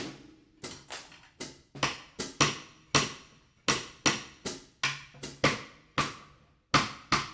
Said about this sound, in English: playing it with an instrument called clave